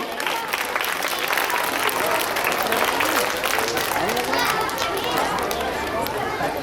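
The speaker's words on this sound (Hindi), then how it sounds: "आप लोग तालियां बजाकर" Applause from the audience at an Indian public school program, a dense, steady spread of clapping lasting several seconds with crowd chatter and a voice mixed in.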